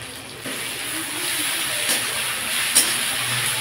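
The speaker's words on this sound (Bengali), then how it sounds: "ভালো করে কষিয়ে নেব।" Ginger-garlic paste sizzles in a pan with fried onion and chopped tomato for a Bengali koi fish curry, a steady close hiss of frying that swells slightly at moments, with no talking.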